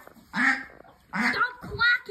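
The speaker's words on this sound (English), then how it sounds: "Stop quacking, duck!" A farm duck quacks in two loud, close bursts with a third shorter call, harsh nasal honks separated by brief pauses.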